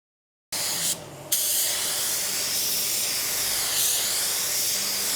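A spray gun lays clear coat onto a car panel in cold conditions, a loud close hissing burst that briefly pauses, then resumes as a long steady spray with no voices.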